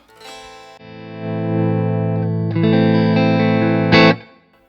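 Sustained electric guitar chords through an H&K Ampman Classic with reverb ring out in a wash, the tail lingering and swelling between strums, ending in a brighter accented chord.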